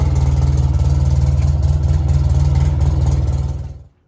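A Polaris RZR 800 utility vehicle engine idles close by with a low, even, chugging rumble, then cuts off abruptly near the end.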